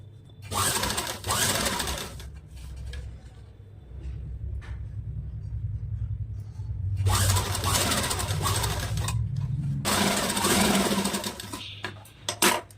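A sewing machine stitches a princess cut blouse in steady, fast whirring bursts. There are short pauses between runs, and the sound is close and continuous with no talking over it.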